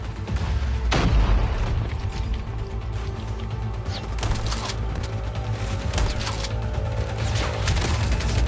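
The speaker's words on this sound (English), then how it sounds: "he launches his rocket" Rocket launched and exploding in the mobile shooter Call of Duty Mobile's battle royale mode, a loud booming blast near the start followed by continuous gunfire, crashes and rumbling game noise throughout.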